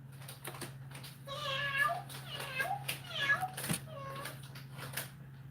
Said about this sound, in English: Look at all the kitties I have.